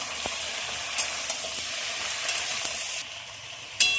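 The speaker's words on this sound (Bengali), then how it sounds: "সবজিগুলো দিয়ে ভাজার জন্য খুব ভালোভাবে নেড়ে দেবো।" Mixed vegetables for a spinach dish fry in hot oil, giving a steady close sizzle broken by occasional spoon knocks and scrapes. The hiss dips briefly before a sharp clatter flares up at the end.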